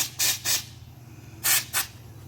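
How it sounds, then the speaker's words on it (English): A spray gun applies Rock-it truck bed liner coating at about 50 psi in short hissing bursts, two quick pairs of sharp close sprays separated by a brief pause over a low background hum. "You want to spray at about 50 psi, or that's the PSI I like."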